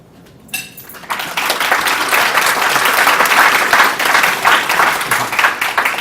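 An audience bursts into loud, sustained applause after a candidate's opening statement at a 2018 congressional debate between Leonard Lance and Tom Malinowski; the clapping starts abruptly and continues steadily throughout.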